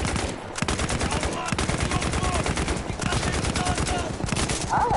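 Rapid gunfire in the first-person shooter game Battlefield 1 rattles almost continuously in dense bursts, loud and close, with overlapping shots and brief gaps.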